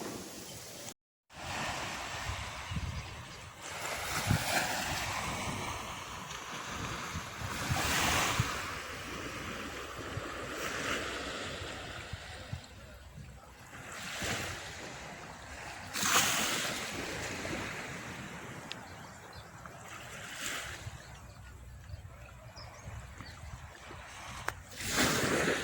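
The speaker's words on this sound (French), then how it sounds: "petit coucou depuis la plage" Surf washing onto a beach on a calm, windless day, a steady broadband wash with several swells of breaking waves rising and falling over about twenty-five seconds, fairly close.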